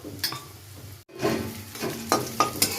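Green chillies sizzle in a pan of frying potatoes and drumstick pods, a close hiss with a few sharp stirring scrapes and clinks and a brief cut near the start.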